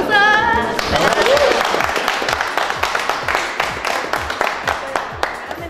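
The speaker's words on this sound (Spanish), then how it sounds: "¡Aplausos!" A crowd claps in a steady, rhythmic beat to welcome the Young Jóvenes youth association. The clapping runs through most of the stretch, and a voice is heard briefly at the start.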